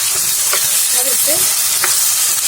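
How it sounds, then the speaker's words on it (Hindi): Potatoes frying in oil over a high flame, a loud steady sizzle with a spoon scraping and stirring through them a few times; no one speaks. "हाई फ्लेम करके इसे हमें भूनना है, बिल्कुल क्रंची करके, बिल्कुल अच्छी तरीके से।"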